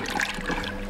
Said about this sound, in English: The washing machine is filling up with hot,